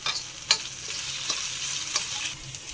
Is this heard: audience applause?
no